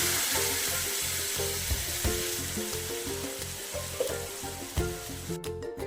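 Ground dal poured into a hot pan for misal tarri, with red chilli powder and salt already in, sizzling and frying steadily throughout with faint stirring clinks, loud and close, no talking.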